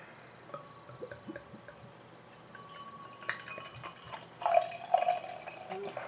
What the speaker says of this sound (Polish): Bardzo ostrożnie troszeczkę nalałem.